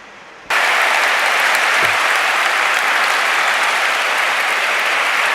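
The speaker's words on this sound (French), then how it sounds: "On applaudit les 2 œuvres d'art qui ont été produites ce soir" Loud, dense applause from an evening audience honoring two artworks, starting abruptly and holding steady as a continuous wash of clapping.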